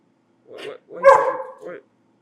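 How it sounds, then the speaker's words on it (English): A dog gives a short series of close, loud barks and yips, three quick bursts in a row. "Why you barking? Why you barking?"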